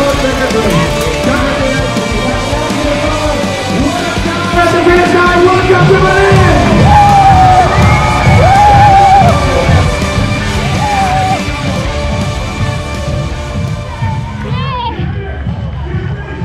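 A large crowd of Berlin Marathon spectators cheers and yells continuously at close range, a loud, sustained roar with shouts and whistles rising and falling throughout.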